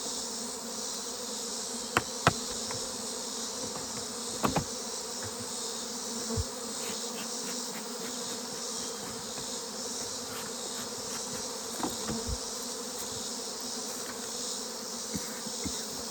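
A steady, dense buzz of honeybees hangs around a hive where frames have just been moved into a smaller box for winter, broken by a few faint knocks and taps. The buzz is continuous, close and fairly quiet.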